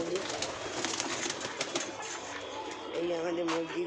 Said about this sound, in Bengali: আর এইখানে দেখো এই পায়রাটা, বাকি সব পায়রা এখানে রয়েছে